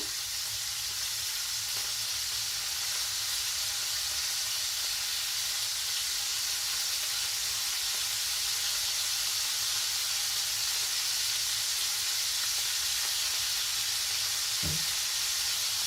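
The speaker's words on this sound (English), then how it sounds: "we're gonna put the venison in here. You can tell that pan is hot." Venison sears in a hot pan on a wood stove, giving a loud, continuous close sizzle and hiss that stays steady throughout, with one brief clunk near the end.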